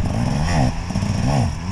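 Enduro motorcycle engine revving hard during a wheelie attempt, two rising-and-falling revs over a steady loud engine drone, close by, with no speech.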